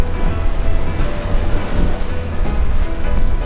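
Ocean waves surge and crash around blowholes on the Cape to Cape coast of Australia, a loud, continuous rumbling wash of surf mixed with wind buffeting the microphone.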